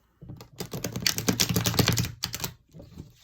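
A deck of tarot cards is shuffled up close in a quiet room, giving a dense burst of rapid, crisp flicking and riffling that runs for about two seconds, then a few softer taps.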